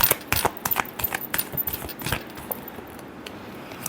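Tarot cards shuffled by hand, a quick run of crisp, close flicking snaps and taps that thins out and fades toward the end.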